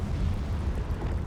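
Confringo spell blast in the Hogwarts Legacy video game, heard as a short, dull rumbling explosion that fills the whole moment with low, steady roar and no voices.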